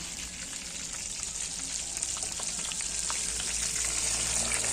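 Tilapia frying in a pan over a wood fire, a steady crackling sizzle of hot oil with scattered pops, continuous and fairly close throughout with no talk.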